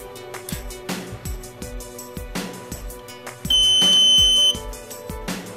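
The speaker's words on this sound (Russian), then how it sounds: "Вы услышите длинный звуковой сигнал." Long steady beep from a Strazh Avizor GSM alarm entering setup mode, sounding for about a second over background music.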